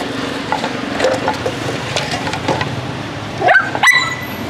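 Dogs kept in a cage on a homemade pull cart bark and yip a few times at moderate distance, with brief bursts near the end over a quiet outdoor background.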